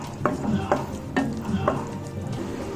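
Cauliflower-mushroom masala gravy with garam masala being stirred in a pan, a run of about four rhythmic scraping strokes of the spoon over a soft background sizzle, close and moderately loud.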